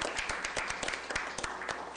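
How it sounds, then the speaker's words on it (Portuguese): Applause from a crowd closing a Brazilian congressional inquiry meeting, dense clapping with a few sharper claps standing out, steady and moderately loud for the whole stretch. "declaro encerrada a nossa reunião com uma grande salva de palmas"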